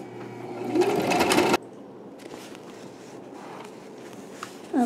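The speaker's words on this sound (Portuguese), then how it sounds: "Agora a gente vai costurar essa parte aqui pra ficar um acabamento bom." A sewing machine stitches a fabric makeup bag in a rapid, steady whir that runs loud for about a second and a half and then cuts off, leaving a quiet room.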